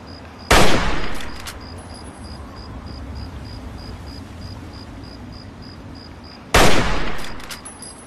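Two sharp gunshots ring out about six seconds apart in the video game Fallout 3, each a loud crack with a brief decaying tail, over a quiet ambient bed with faint insect-like chirping.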